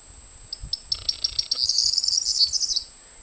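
A bird calls in the Piddle Valley countryside of Dorset, a run of thin, high chirps that speeds into a rapid trill before stopping, heard close and clear over low rumbling background noise.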